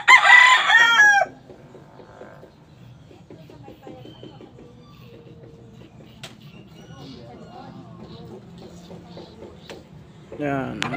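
A rooster crows loudly and close at the start, followed by softer clucking and scattered clicks, with another crow beginning at the end.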